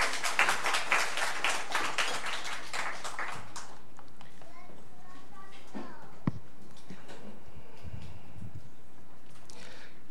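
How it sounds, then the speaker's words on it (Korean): A church congregation applauds loudly to welcome a pastor to the pulpit, a burst of many clapping hands that fades out after a few seconds, followed by quieter room sounds and faint voices. "자, 큰 박수로 맞이하겠습니다."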